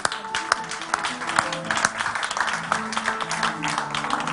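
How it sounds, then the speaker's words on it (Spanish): Warm applause from an audience greeting guests at a Zabaltegi conversation event at the 2008 San Sebastián festival, dense steady clapping with a few voices mixed in beneath. "como siempre, con un fuerte aplauso"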